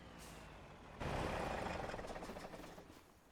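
A heavy truck in Farming Simulator 25 pulls away on the Silverrun Forest map beside railway tracks. A low, steady engine rumble swells suddenly and loudly about one second in, then holds close and continuous with no talking.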